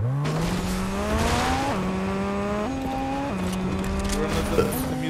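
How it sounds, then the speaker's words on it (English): In a video game, a car pulls out of a parking spot and speeds off. The close, loud engine climbs in pitch, drops at each of several gear shifts and climbs again, with a voice talking over it. "Let me get this car out of this spot for you."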